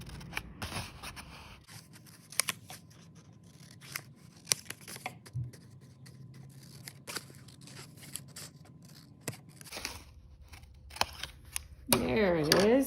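Scissors cutting sunflower petals out of white paper, a series of crisp snips and rustles close by, scattered across the clip, with a louder crinkle of paper near the end.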